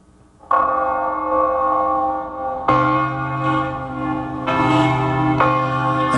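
Church bells ring loudly and nearby, with several strong strikes whose rich, sustained tones overlap and linger between each new peal.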